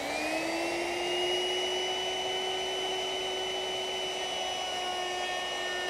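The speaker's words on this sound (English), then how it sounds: "I'll ease the edges using a router with a 1/4 inch rounding over bit." A router with a 1/4 inch round-over bit eases the edges of wooden rocking horse pieces, giving a steady, loud, high-pitched whine that holds throughout without pauses or talking.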